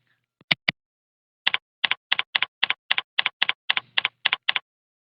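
Keystrokes on a computer keyboard as a web address is typed: two quick taps, a pause, then a steady run of about a dozen evenly spaced clicks, close and clear in a quiet room.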